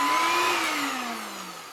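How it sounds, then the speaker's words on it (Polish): A RAVEN cordless vacuum cleaner with an electric brush runs close and loud, a steady whining motor whose pitch slowly drops as it winds down, with no talk. "elektroszczotka, która jeszcze po prostu wciąga ten brud"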